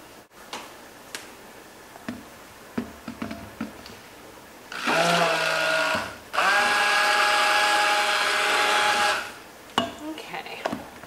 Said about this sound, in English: I'm going to go rinse off my stick blender